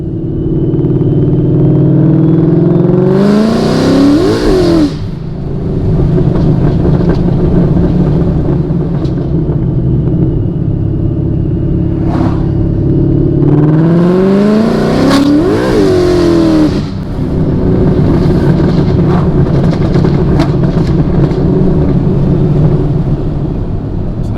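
Whipple supercharged 2016 Mustang under hard pulls, its engine droning loudly and steadily with two rising rev sweeps that cut sharply at no-lift shifts, the exhaust crackling around each shift; close and loud throughout, no talking.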